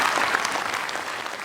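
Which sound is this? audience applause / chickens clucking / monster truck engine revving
audience applause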